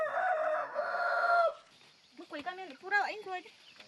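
A rooster crows loudly in a long, drawn-out call, followed by a series of choppy, rising clucks from chickens in an Amazon indigenous community, all heard close by.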